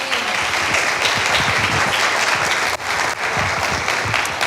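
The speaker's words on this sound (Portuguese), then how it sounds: "quero que você receba com muito aplauso a vida da nossa pastora" A church audience applauds steadily to welcome their pastor at an evening worship service, dense and loud clapping throughout with no voices over it.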